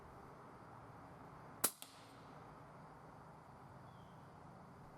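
One sharp air rifle shot hitting a squirrel, a single loud crack with a brief smack right after, then quiet outdoor ambience.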